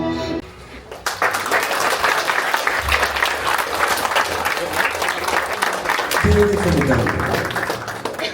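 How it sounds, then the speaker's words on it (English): Guests at a First Holy Communion celebration in Goa break into loud, sustained applause after a brief sung phrase, clapping steady and close, with voices mixed in and someone speaking near the end. "She deserves more round of applause."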